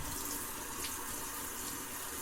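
A straight razor rinsed under running tap water at a sink, a steady close gush and splash of water throughout the short stretch, with no talking.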